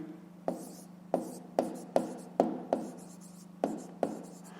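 Pen on paper writing by hand during a fifth-grade maths exercise: a series of about eight quick, close scratchy strokes at a steady pace over a low constant hum, with no talk.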